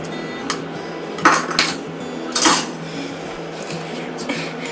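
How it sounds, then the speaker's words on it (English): A whisk scrapes and clinks against a bowl of eggs and milk at close range, a soft continuous rattle with a few louder metallic taps. "And then you whisk them together real good."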